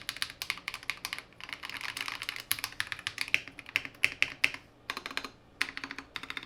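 Fast, clacky typing on a Royal Kludge RK84 mechanical keyboard with vintage white switches and stock stabilizers, a dense run of sharp close keystrokes with short pauses and no talk.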